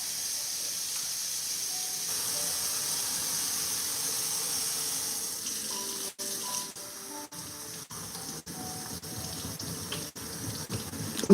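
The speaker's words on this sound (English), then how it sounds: "Let's rinse this stuff off." Kitchen tap water runs steadily into a sink while items are rinsed under it, a continuous close hiss with several short breaks near the end as things pass through the stream, no talking.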